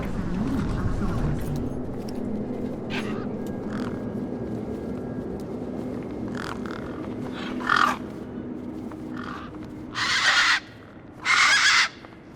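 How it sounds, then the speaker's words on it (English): Harsh croaking desert bird calls from the video game Beyond a Steel Sky come in short bursts over a low rumbling ambience, with louder, longer calls near the end. "These were tough desert birds."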